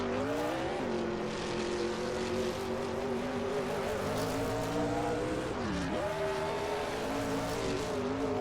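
NASCAR race cars in a video game, a loud continuous engine roar with shifting pitch as several cars race, dense and close throughout.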